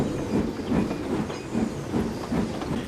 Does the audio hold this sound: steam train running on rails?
yes